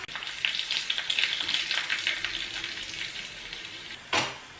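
Dried red chillies sizzle and crackle steadily in hot oil in a pan while being stirred for a Kerala vellarikka pachadi, with a sharp spatula scrape near the end.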